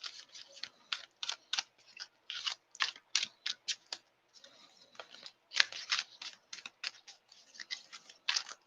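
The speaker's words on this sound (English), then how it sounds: "There's something about the finish on the cards in this deck that makes them not shuffle as easily" Rapid bursts of riffling card shuffles repeat in quick succession, crisp and close, with short pauses between each pass.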